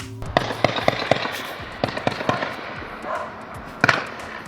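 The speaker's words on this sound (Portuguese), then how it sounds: "De longe, era possível escutar os disparos das armas de fogo" Scattered sharp gunshots pop at a distance during an armed robbery at Quero-Quero airport in Blumenau, Brazil, some in quick clusters and a louder pair near the end, over a noisy outdoor background.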